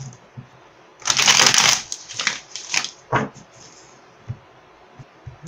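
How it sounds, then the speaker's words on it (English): A deck of tarot cards is shuffled close by, a loud riffling burst followed by several shorter flicks and taps, then softer scattered card sounds. "I am totally shuffling the wrong deck"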